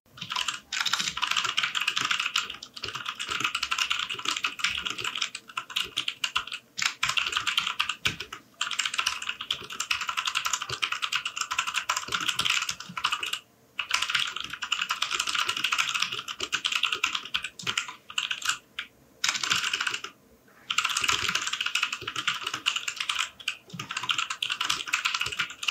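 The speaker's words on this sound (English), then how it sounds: "here's a typing ASMR so you could know how it sounds like" Continuous typing on an RK987 wireless dual-mode mechanical keyboard, dense clacking keystrokes in quick rhythmic bursts with a few brief pauses, close and clear and with no voices.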